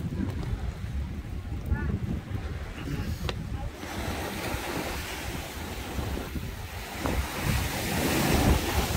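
Ocean waves rolling onto a shore where people fish, a steady loud wash of surf with wind buffeting the microphone throughout.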